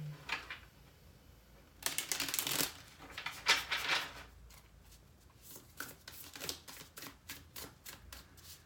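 Tarot cards being shuffled by hand, with bursts of riffling and rapid flicking clicks that come and go, fairly close and moderately loud, with no talking.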